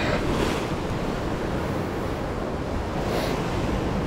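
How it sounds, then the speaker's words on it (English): Strong wind buffets a sea shore during shore fishing for cod near Arbroath, a loud continuous roar of gusts and breaking surf with no pauses or voices. "The wind's picking up."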